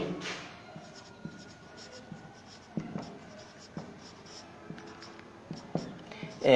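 A hand writes an answer on paper, a soft, continuous scratching of pen strokes with small taps, close and quiet, with a faint voice now and then.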